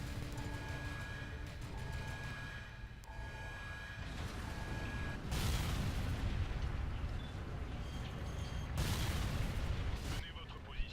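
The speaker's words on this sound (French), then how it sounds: "Générateur chimique en surcharge. Direction la porte blindée. Fuyez avant l'explosion." An overloaded chemical generator explodes in the Warhammer 40,000 Kill Team video game, with heavy booming blasts and rumbling bursts of noise repeating over a dense low roar, two sharp loud peaks standing out near the middle and end.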